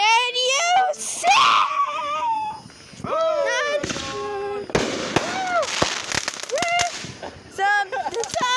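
Backyard fireworks go off in loud, sharp bangs and crackling bursts, several in a row, while excited children shout, squeal and talk over them.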